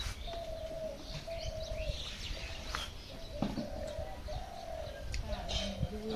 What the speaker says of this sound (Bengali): গুগু পাখি চারিদিকে খালি গুগু পাখির ডাকে এখন।